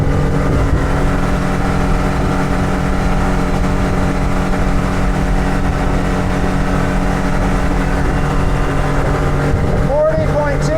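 A 1992 Jetcraft 19-foot aluminum boat driven by a Mercury 150 outboard at full throttle, a loud steady engine drone with water rush running continuously throughout, with a voice briefly audible near the end.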